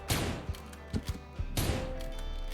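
Gunfire in a video game: a few sharp shots with booming echoes, two heavier blasts bracketing several lighter cracks, over a low steady rumble with no talk.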